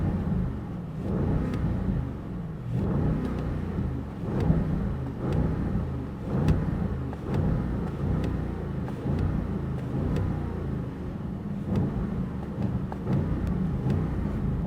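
A 2025 Audi RSQ8 Performance in RS2 mode with the windows down, its engine turning over and then revving in repeated bursts that climb to the limiter, a deep steady rumble with rhythmic pulses, moderately loud.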